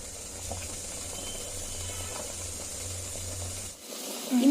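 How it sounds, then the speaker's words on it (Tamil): Water and sugar boil in a pot for syrup, giving a steady, close hiss with soft bubbling. The hiss cuts out near the end, and then a brief clatter follows. "நல்லா கொதிக்க ஆரம்பிச்சிடுச்சு."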